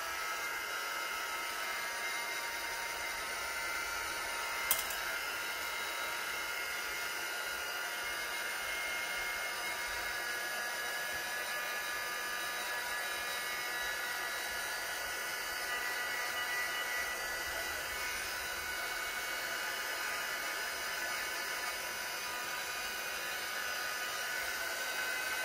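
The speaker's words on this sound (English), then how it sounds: "I'll give it a bit of a dry with the heat gun." A heat gun blows while drying ink on a piece of artwork, giving a steady, loud, close whooshing roar that runs unbroken with a single brief click near the start; no one speaks.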